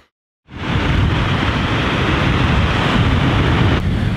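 After a brief hush, a waterfall in a remote spot breaks into a loud, steady roar of rushing water that continues unbroken, close and alone.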